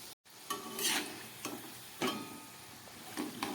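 Balushahi sweets fry gently in oil over a low gas flame, giving a soft, steady sizzle broken by a few brief utensil clinks and stirring sounds, close and moderately quiet.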